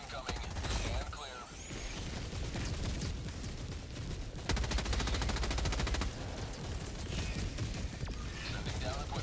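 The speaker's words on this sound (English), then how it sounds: "See if the Gatling barrage can handle that side on its own." Continuous rapid gunfire from a Gatling barrage in Helldivers 2, a loud sustained rattle of shots with mechanical clatter, rising to a dense burst midway, with a voice talking at points.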